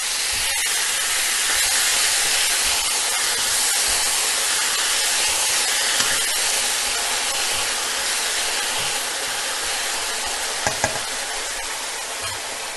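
Chicken stock splashed into a hot pan of noodles with chicken and vegetables, giving a steady, close hiss of sizzling and steam that runs without pause, with a few small pops and no talking.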